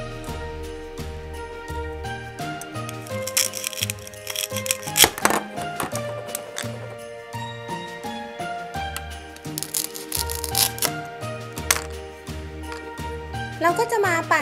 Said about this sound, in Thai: เราก็มาหั่นส้มแล้วก็แครอทกันนะ